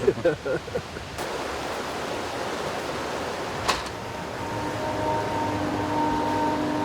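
Water pours down toward a small hydro turbine, a constant broadband rushing roar. A few short voiced sounds come at the start, with a faint tonal hum emerging later.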